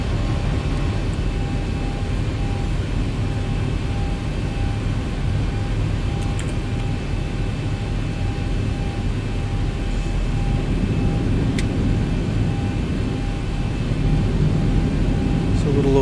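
A Boeing 737 taxiing in the X-Plane 11 flight simulator, a steady, continuous low engine drone and rumble that holds even throughout, with a couple of faint clicks.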